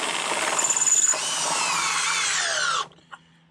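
A power tool drives a pool filter clamp tight, a loud close whirring drill-like spin that runs steadily, its pitch sliding down as it loads up, then cuts off abruptly with a single clank after.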